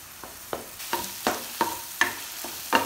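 Beaten eggs cook in a pan for egg noodles, with a soft sizzle under a series of regular scraping stirs roughly every half second.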